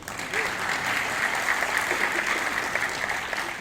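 An audience at a devotional song gathering claps together, a dense, sustained round of applause at a steady level throughout, with faint voices mixed into the crowd noise.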